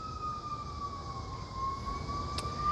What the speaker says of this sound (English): Or that might be an ambulance. Ooh, fire truck.